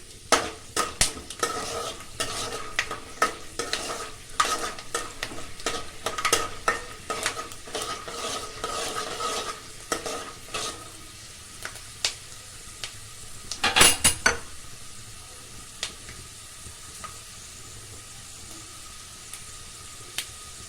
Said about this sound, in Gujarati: સિંગદાણા થોડાક ચડી જાય ત્યાં સુધી આપણે તેને હલાવતા રહેશું